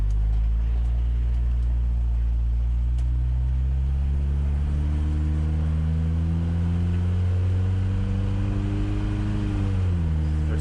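Car engine during a test drive: a loud, steady low rumble inside the cabin that rises slowly in pitch as the revs climb, then dips sharply near the end.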